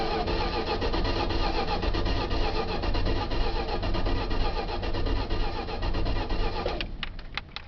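Engine of a 1977 Dodge van cranking over and over as it tries to start, a steady rapid chugging rhythm, loud and near, ending in a few spluttering catches.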